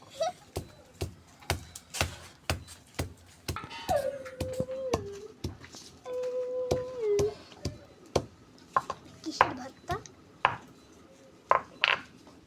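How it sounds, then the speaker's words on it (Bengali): Boiled beef crushed on a shil-nora grinding stone, heard as a steady run of sharp knocking strikes, close and fairly loud, with a few brief squeaky scrapes between them. "এখন একটু শিলনোড়ায় এরকম করে নিব।"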